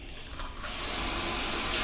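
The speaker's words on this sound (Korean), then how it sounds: "일단 샤워를 좀 해보겠습니다." Shower water starts running and builds into a steady, hissing spray, close by and continuous, with no voices.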